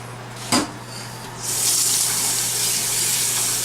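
Tap water pours steadily into a pot in a kitchen for boiling ravioli, starting after a brief clunk and running as a loud, continuous hiss with a low hum underneath.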